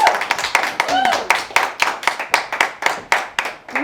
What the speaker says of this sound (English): give Elizabeth a round of an applause